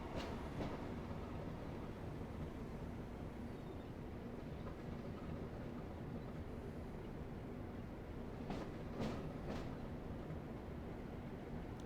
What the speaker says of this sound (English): Train. I hear a train.